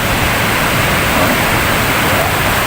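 Strong ocean waves at Bagasbas Beach in Bicol roar as a dense, continuous wash of surf noise, loud and close, filling the whole moment without a break.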